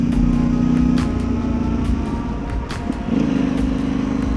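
Yamaha Tenere 700 motorcycle exhaust on a ride, a steady loud drone with a held engine tone that dips briefly near the middle then returns, continuous throughout.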